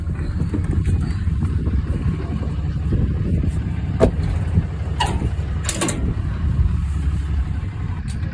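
A truck drives slowly beneath a cattle feed bin, its engine a steady low rumble with a few sharp metallic clanks and knocks from the bin and truck, close up, with no talking.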